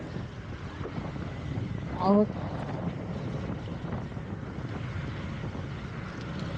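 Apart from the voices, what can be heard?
wind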